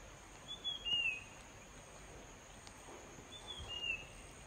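Two faint, brief bird calls sound several seconds apart in a quiet forest among rubber tree roots near Bangalan Waterfall in Mon State, Myanmar, over a soft hiss of insects.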